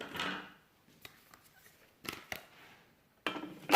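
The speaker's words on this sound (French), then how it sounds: "je vais mettre le panier de cuisson" A Thermomix cooking basket is set into the bowl with a few short plastic-and-metal clacks and scrapes, close and fairly loud, separated by brief quiet pauses.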